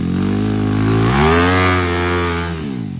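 Dirt bike engine on an off-road enduro ride in the hills, loud and close, revving up and climbing in pitch before easing back down.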